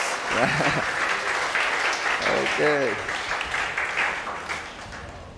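A church congregation applauds in a sustained patter of clapping, and a voice speaks briefly over it before the applause gradually fades.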